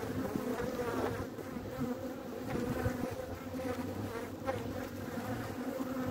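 Dense, continuous buzzing of many honeybees at an opened hive during a winter hive inspection, a steady droning hum close by with no voices.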